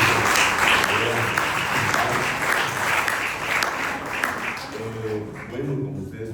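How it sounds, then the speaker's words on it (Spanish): Church congregation applauding for the King after a prayer at an apostolic visit service, a dense sustained clapping crowd with voices mixed in, fading slightly toward the end. "Denle un aplauso al Rey."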